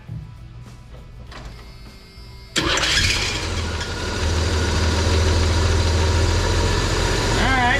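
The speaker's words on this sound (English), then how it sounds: "let's fire this thing up and see what it sounds like" A Chevy S10 pickup engine cranks and catches after a few quiet seconds, then settles into a loud, steady idle close by.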